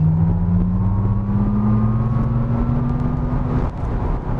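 Maserati GranTurismo Folgore electric car at full throttle, its synthesized V8 engine sound rising steadily as a loud, close drone with climbing tones, ending with a brief dip near the end.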